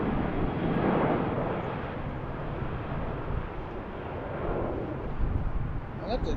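A jet airliner departs from runway 15 right, its deep, rumbling engine roar rolling steadily and surging in waves, heard loud and alone throughout.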